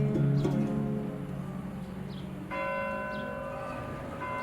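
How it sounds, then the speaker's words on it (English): Church bells ring out in the Armenian quarter of Isfahan, sustained tolling strikes with long humming decay, a fresh strike sounding midway, clear and fairly close in an open setting. "And in Isfahan, church bells still ring out in the Armenian quarter even today."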